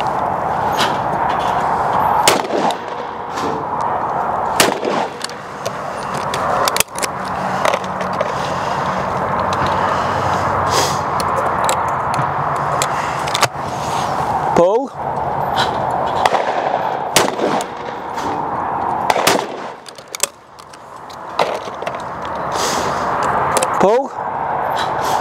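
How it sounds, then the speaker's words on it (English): Shotgun blasts from Fiocchi F Blues cartridges during clay shooting outdoors, sharp loud reports in pairs spread across a long stretch, with the action opening and closing between shots and some talk. "So I'm going to use my Fiocchi F Blues. So I'm going to shoot 5 pairs with each gun."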